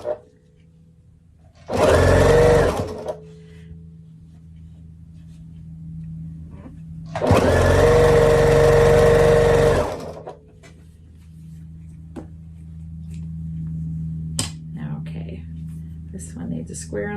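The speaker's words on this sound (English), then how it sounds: "When I sew like this" A sewing machine stitching quilt blocks in two loud, steady whirring runs of a few seconds each, close by, with quiet handling noises and soft talk in between.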